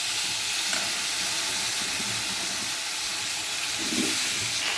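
Raw green banana pieces fry in hot oil in a wok after a black cumin tempering. A steady, moderate hiss and sizzle runs throughout with no voices.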